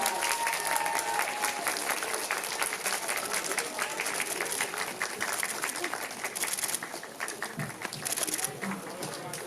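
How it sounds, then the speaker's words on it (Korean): An audience at a film screening's guest talk applauds as the guests leave, sustained, dense clapping from a large crowd filling the room for nearly ten seconds, with faint crowd murmur beneath. "이쪽으로 퇴장하시는 동안 박수로 보내드리도록 하겠습니다."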